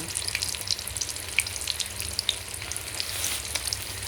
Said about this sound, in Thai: วันนี้เรามาทำมะเขือยาวชุบไข่ทอดไว้กินกับน้ำพริกกะปิกันนะคะ